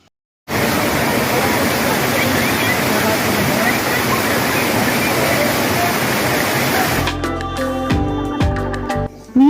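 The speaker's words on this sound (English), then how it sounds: "We have to cross broken rocks to reach the waterfall." Bhavli waterfall near Igatpuri roars as a loud, steady rush of falling water up close, then gives way near the end to brief voices and handling noise.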